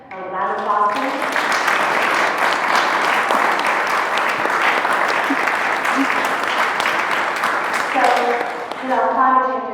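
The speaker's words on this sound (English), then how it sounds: "A round of applause." An audience at a climate change and conflict talk bursts into sustained applause for about eight seconds, dense and steady, with speech briefly heard at the start and end.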